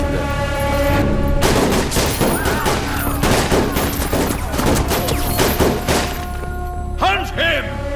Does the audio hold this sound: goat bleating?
no